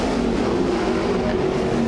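Sprint cars at the 2008 SA Sprint Car Titles roar past together in a steady, loud engine drone with a sustained harmonic whine, a close, continuous racing wash with no voices.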